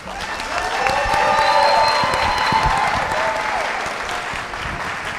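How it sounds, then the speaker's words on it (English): Audience clapping after a business pitch competition presentation, a dense sustained round of applause with some cheering, loud and full throughout, with faint voices underneath. "All right, keep clapping, keep clapping."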